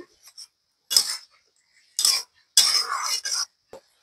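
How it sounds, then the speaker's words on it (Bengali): A cooking pot lid lifted off while lau shaak (bottle gourd greens) cooks at home, giving a few short metallic clinks and scrapes of lid against pot, close and distinct with quiet gaps between. "ঢাকাটা তুলে নেব।"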